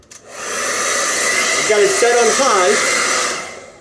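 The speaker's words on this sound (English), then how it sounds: "All right, hair dryer time." A hair dryer set on high blows steadily on a man's beard, a loud continuous whoosh starting abruptly and running for several seconds, with someone briefly speaking over it.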